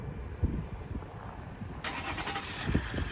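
A 2016 Ram 1500 Laramie Limited with the 3.0 diesel engine starts by remote start, a sudden cranking burst catching into a low, steady idle after quiet handling noises, heard from nearby outdoors.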